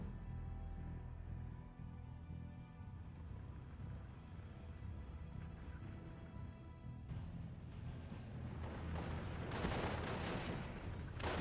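Rumbling, booming battle noise from a German tank firing on half-tracks in a World War II strategy video game, a dense continuous low roar that grows harsher and fuller partway through.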